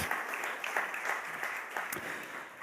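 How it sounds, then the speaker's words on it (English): A panel discussion audience claps for a sponsor, a dense, even roar of many hands at moderate loudness, without any voices over it. "So please give a big hand of applause to BUWOG."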